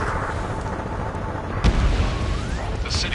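Gunfire and explosions in the Ace Combat 7 video game, with a deep boom about midway over a rumbling battle backdrop and a faint rising whine of a jet, while radio-style voices talk.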